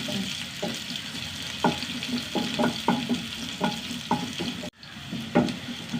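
Onions frying in a pan, a steady close sizzle with stirring scrapes and clinks at an irregular rhythm, a brief dropout near the end, and no voices.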